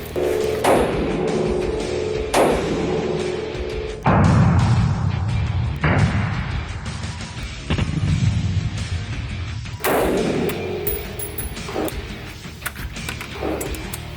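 Fold AR rifle fired indoors at a shooting facility, about seven loud sharp reports spaced a second or two apart, each with a booming ring-off and tinkling brass, one fast pair near the end.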